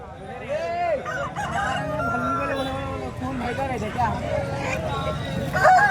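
Roosters crow repeatedly amid a busy outdoor hubbub at a poultry market in Kothagudem, with several people talking nearby throughout.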